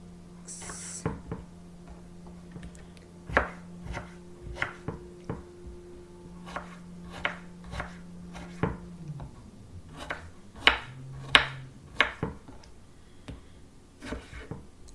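Knife chopping a tomato on a cutting board, cut in half, then quarters, eighths and bite-sized chunks for homemade salsa; a steady series of sharp, close taps against the board, with a low hum underneath.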